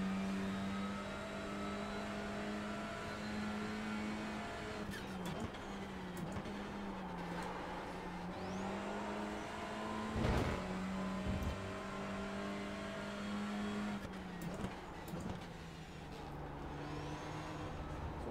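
A Civic touring car races around Brands Hatch in the iRacing sim, its engine droning steadily through the gears with brief dips and shifts while braking for corners, heard alone with no talk.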